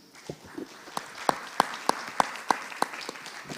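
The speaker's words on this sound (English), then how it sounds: "A warm round of applause for the panelists." A small summit audience claps for panelists after a discussion, giving sparse, distinct individual claps at a fairly steady rhythm rather than a dense ovation, moderately close with no talk over it.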